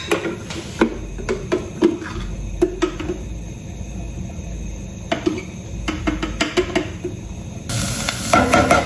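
Garlic sizzling in a pan for a creamy chicken carbonara sauce: a steady frying hiss broken by frequent sharp clicks and clatters of a utensil against the pan, close and fairly loud, with no talk.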